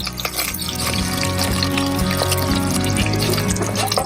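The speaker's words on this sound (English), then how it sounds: "To this, I'm going to add the cooked chickpeas and the onion and the water along with it." Cooked chickpeas with their water tipped into a pan of spiced onion for kadala curry, a steady pouring and sloshing splash that fills the whole moment without any talk.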